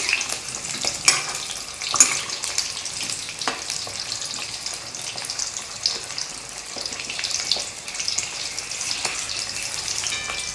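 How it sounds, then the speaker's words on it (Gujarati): Onions sautéing in a pan over a high flame, a steady close sizzle and crackle with occasional stirring scrapes and no talking. "આ ડુંગળી સાંતળવામાં દસથી બાર મિનિટ જેવો ટાઈમ લાગશે"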